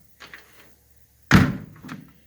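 An original all-steel door on a 1937 Ford coupe closes with a solid, heavy thunk after a few faint handling noises, close and loud with a short rattle trailing off.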